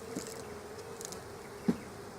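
Honey bees in a hive give a low, faint buzzing hum, with a few brief louder buzzes from individual bees passing close.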